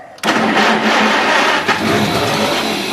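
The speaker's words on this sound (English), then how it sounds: "Let's see if this tractor will run." A tractor engine cranks and catches abruptly, then runs loud and close with steady rough revving and a brief surge partway through.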